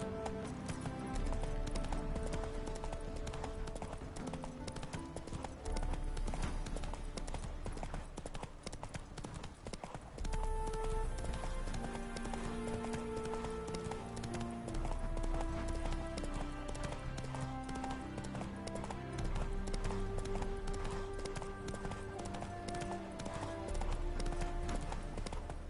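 A ridden horse's hooves clip-clop in a steady, fairly close rhythm, with a low music track running underneath throughout.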